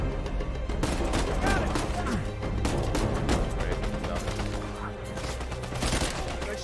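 Heavy gunfire in Uncharted 4, dense continuous volleys of rapid shots and cracks with booming impacts, loud and close throughout, with a voice talking over parts of it.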